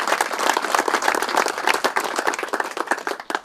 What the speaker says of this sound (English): how about a big round of applause for Kevin?